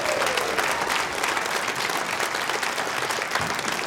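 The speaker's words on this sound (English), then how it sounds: "let's get an applause to go into this song." Audience applause at a live podcast taping, dense sustained clapping from a room full of people, loud and continuous throughout.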